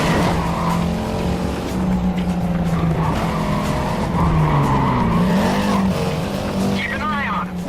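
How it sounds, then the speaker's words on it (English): A car skidding and fishtailing in the racing game Need for Speed Carbon, with long wavering tire squeals sliding up and down over a roaring engine, the screeches repeating through the run while a voice speaks over it. "I forgot to fight the fishtail."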